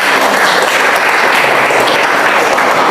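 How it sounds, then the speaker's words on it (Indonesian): Dense, steady applause from a crowd at a nursing school teaching session in Indonesia, continuous and loud throughout with no talk on top. "Tepuk tangan untuk kita semua"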